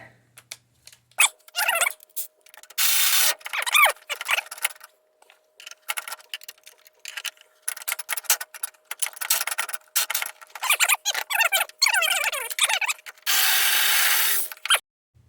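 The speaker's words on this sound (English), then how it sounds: "I'll use the lazy man's ratchet" Ratchet wrench removing an upper right motor mount bolt on a 2013 Mini Cooper R56, with quick bursts of ratcheting clicks and scraping, separated by short silent gaps, close and crisp.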